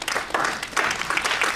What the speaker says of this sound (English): give the Lord a hand clap of praise on your way down